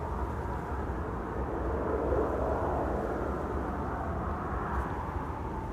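A Transavia airliner departs Amsterdam Schiphol Airport for Barcelona, its jet engines producing a steady, broad, distant roar that holds at an even level throughout.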